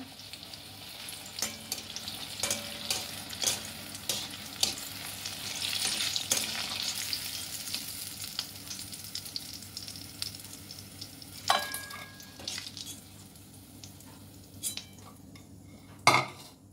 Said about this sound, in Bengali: এবার বাকিগুলো আমি ভেজে নিয়ে তোমাদের দেখাচ্ছি